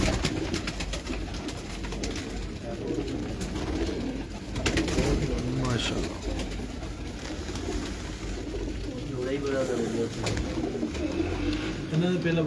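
Pigeons at a Lahore loft coo in low, rolling calls that repeat through a busy, noisy background, with voices talking at times over them.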